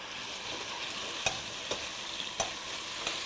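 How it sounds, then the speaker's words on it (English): Red onions fry in steak marinade in a steady soft sizzle, with a few sharp clicks of a utensil stirring the pan. "I'm going to take my red onions now and drop them in. Cook those up some."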